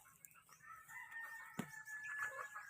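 Backyard chickens calling nearby, a short crowing-like note and a sharp cluck over quiet outdoor ambience, with faint voices in the background.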